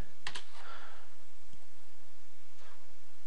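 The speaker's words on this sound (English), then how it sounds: "So I'll just type in the URL we just entered, /info.php," Keys clicking on a computer keyboard while a URL ending in /info.php is typed, a short burst of several close keystrokes near the start followed by a couple of sparse, softer taps amid quiet room hiss.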